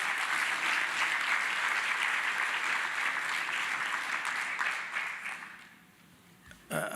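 An audience at an International Anti-Corruption Day event in the Eastern Cape applauds the Commissioner, steady dense clapping that fades toward the end before a brief burst of noise returns.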